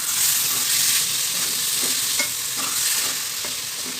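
Soaked rice is stirred into lightly fried garlic, onion and ginger in a pan, giving a steady close sizzle with repeated soft scraping strokes of the spoon and no talking.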